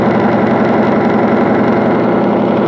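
A metal friction test machine keeps spinning during a metal conditioner test, giving a steady, loud, continuous mechanical whir with a constant drone and no breaks.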